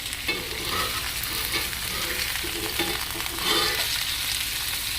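Honey glazed chicken thighs sizzle loudly in a hot pan as they are flipped, a dense steady hiss with soft scraping and shifting of the meat, close and continuous without speech.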